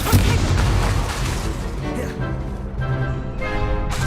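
Incendio fire spell cast during a Hogwarts Legacy battle, a loud booming fiery blast followed by more thuds and whooshes over dramatic orchestral music.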